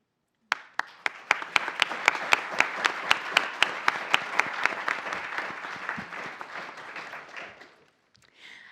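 A live audience applauds mayoral candidates at a city forum in an indoor hall, a burst of steady crowd clapping with sharp individual claps on top, swelling and then tapering off over several seconds before dying out.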